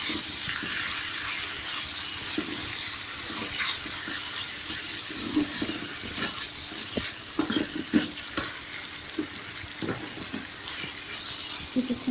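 Meat and spices fry and are stirred in a pan for a chicken bhuna. A soft, steady sizzle runs throughout, with scraping stir strokes and light clinks recurring at an uneven pace.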